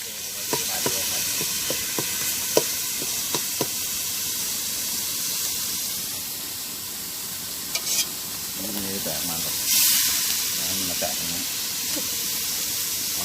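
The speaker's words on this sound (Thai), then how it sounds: "แล้วก็พริกแกงใส่ลงไปครับ ผัดครับ เคี่ยวพริกแกงอีกทีหนึ่งครับ" Green curry paste stir-fried in coconut milk in a wok for a Thai green curry with fatty beef, giving a steady sizzle and hiss with scraping stir strokes and occasional clinks, close and continuous.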